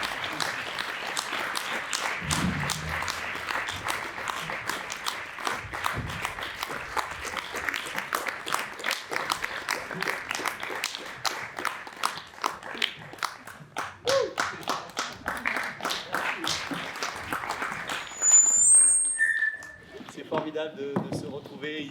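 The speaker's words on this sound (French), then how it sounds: "Est-ce qu'on les applaudit?" A theater audience at a season presentation claps in sustained, dense applause that thins into scattered claps, with a host's voice over it near the end.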